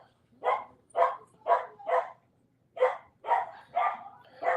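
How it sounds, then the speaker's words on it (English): Dog barking loudly and repeatedly indoors, eight sharp barks in two rapid bursts of four with a short pause between, close and distinct with no talk over them. "That's my daughter's dog Bruno going ballistic."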